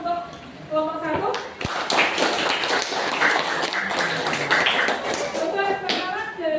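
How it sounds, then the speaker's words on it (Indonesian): A classroom of students claps for a group that has just finished its presentation, a sustained crowd of hand claps filling the room with a sharp slap near the start and voices talking over it. "kita beri tepuk tangan untuk kelompok 1"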